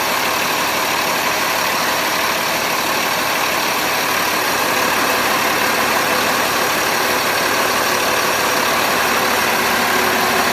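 A loud 2006 Sea Ray 440 Sundancer boat engine idles steadily at close range, its low rhythmic throb running without a break beneath a broad mechanical hum.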